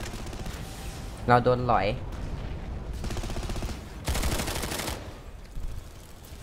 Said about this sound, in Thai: เราโดนยิง เดี๋ยวขอลูกกระสุนกัน